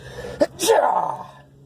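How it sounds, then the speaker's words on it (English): A single sharp sneeze with a brief inhale before it, close and loud, trailing off into a soft breathy tail. "I'm about to sneeze."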